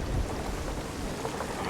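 Rain and thunder roar from a storm at sea in the video game Sea of Thieves, a dense, continuous rush of rain with low rumbling throughout.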